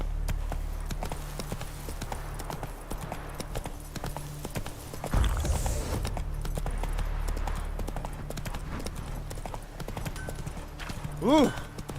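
Hooves of Roach, the horse in The Witcher 3, clip-clopping in a steady rhythm, close and continuous, with a brief whoosh midway, a whinny-like cry near the end and game voices over it.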